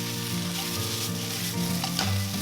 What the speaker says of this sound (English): Give this a quick stir fry until the vegetables are wilted just a bit